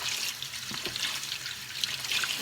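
Water trickling and pouring over raw chicken feet being washed and soaked in water with vinegar, a continuous splashy hiss with small sloshes, close and moderately loud.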